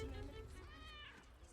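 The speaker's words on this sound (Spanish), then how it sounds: "Un gato." A cat meows once in the Baldur's Gate 3 video game, a short, faint, drawn-out call over quiet background ambience with no talk over it.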